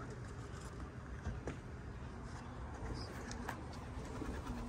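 Soft cooing of racing pigeons outdoors over a steady low rumble of distant traffic and ambient noise, with occasional faint clicks.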